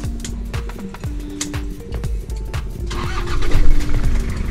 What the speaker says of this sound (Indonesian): kita coba nyalakan mesin ya, tanpa injak pedal gas